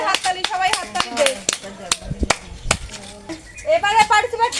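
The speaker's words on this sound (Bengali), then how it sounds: "প্রিয়া তোমার হাততালি, জোরে হাততালি, সবাই হাততালি দে।" A group claps together during a blindfolded vegetable-matching game: a scattering of sharp, loud hand claps in uneven bursts, mixed with voices talking and laughing nearby.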